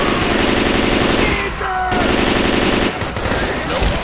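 Rapid automatic gunfire in the Left 4 Dead 2 zombie shooter, dense and loud in sustained bursts with a brief break midway, then more shooting with mixed weapon sounds and game effects.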